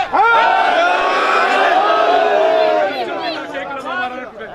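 A crowd at a Shia majlis in Burewala chants religious slogans in unison, loud, sustained voices rising and falling together, with a brief dip before the chant resumes.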